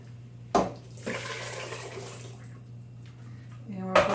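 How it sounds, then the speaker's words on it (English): Roasted corn soup mixture, part of it pureed, poured back into a cooking pot with a thick liquid splash and slosh, near and moderately loud over a steady low hum, bracketed by short clunks of the container. "Okay, we're going to pour this back in here."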